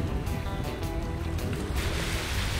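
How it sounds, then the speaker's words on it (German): Strong, steady wind gusting along the Aruba coast at a kitesurfing spot, a dense continuous roar with no voices. "bläst hier doch beständig ein meist recht kräftiger Wind"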